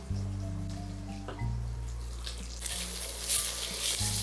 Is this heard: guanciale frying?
yes